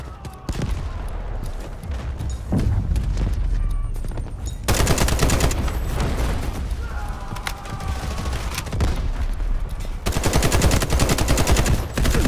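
Gunfire in the Delta Force video game: dense, loud bursts of rapid automatic shots and scattered single reports run almost continuously, with brief lulls, under game battle noise.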